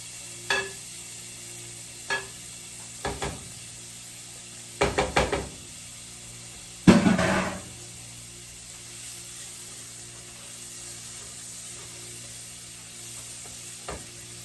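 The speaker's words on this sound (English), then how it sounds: "Okay, so the onions has cooked just a little bit by themselves." Onions sizzle in a pan as a steady background hiss, interrupted by several clattering knocks and scrapes of a utensil stirring, with a louder burst of activity midway.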